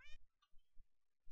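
A cat meowing in Minecraft, a short faint mew at the start and another at the end, separated by soft low thumps.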